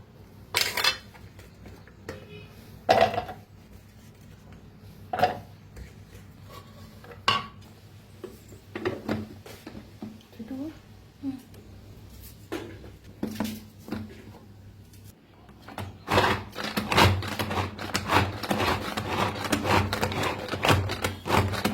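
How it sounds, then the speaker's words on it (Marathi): Onion chopped in a kitchen chopper makes rapid clacking and knocking bursts, scattered at first and then a dense, fast rattling run near the end, close and fairly loud. "तर आता माझ्याकडे चॉपर होतं म्हणताना चॉपरलाच लावून घेते"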